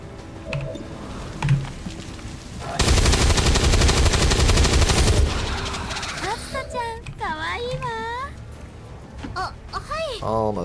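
Soldiers in the video game XCOM 2 unleash a loud sustained burst of automatic gunfire, followed by strained alien-like vocal cries and groans.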